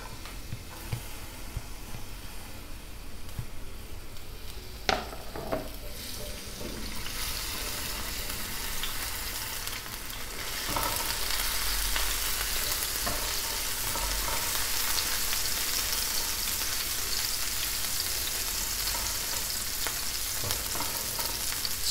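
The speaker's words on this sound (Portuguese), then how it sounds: "Fritar um pouquinho de alho." Garlic frying in a pan for a salt cod dish, a steady crackling sizzle that grows louder and brighter after a few seconds with occasional utensil knocks, no voices.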